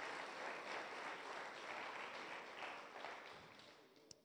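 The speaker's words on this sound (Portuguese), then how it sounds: "Quem recebe, dê um aplauso bem forte ao Senhor" Applause from a church congregation during a sermon, a faint, distant wash of clapping that holds steady and then fades out, ending with a single sharp knock.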